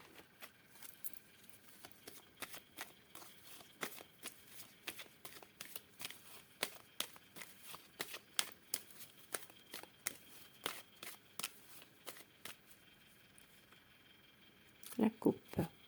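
A deck of cards is shuffled and cut at a tabletop fortune-telling reading, giving a steady run of crisp close riffles and snaps with a louder cluster of flicks near the end.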